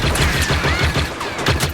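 Blaster fire in a Star Wars video game crackles in a rapid, uneven string of close, loud shots, with bursts overlapping one another.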